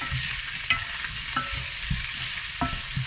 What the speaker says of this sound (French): je vais rajouter mes 200 g de lardons. Donc là, j'ai mis à feu moyen. Hop, je mélange